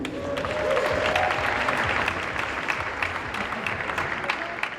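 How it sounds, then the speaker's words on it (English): Applause fills the hall at a scholarship gala and fashion show, a thick, continuous round of clapping from a seated crowd that holds steady and tapers slightly toward the end. "Please put your hands together for the fabulously fantastic fashionista extraordinaire, Mrs. Willie Ray."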